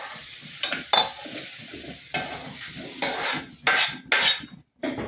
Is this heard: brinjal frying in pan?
yes